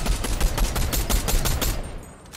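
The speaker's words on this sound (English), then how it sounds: "You had some good shooting there, Tex." Rapid automatic gunfire in the video game Fortnite, a loud dense burst of repeated shots that stops near the end.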